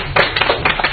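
A brief burst of audience clapping, a few quick close claps in under a second.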